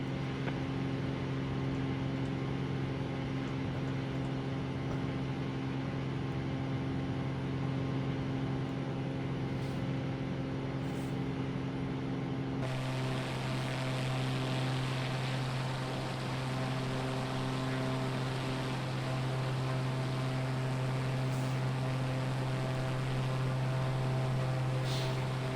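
Cockpit noise of a Cessna light aircraft in flight between Shannon and Cork, Ireland: a steady, loud engine drone with a constant hum and broad airflow hiss that barely changes throughout.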